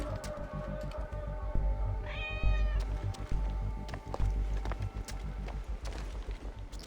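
A cat meows in the Assassin's Creed Origins video game, one rising, harmonic call near the middle over a busy bed of game ambience and footstep-like clatter.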